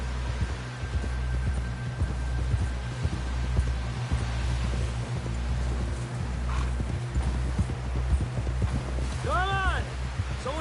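Horse hooves clip-clopping steadily at a gallop in the video game Red Dead Redemption 2, a regular rhythmic thudding under a low hum and ambient game noise, with a brief whinny-like tonal sweep near the end.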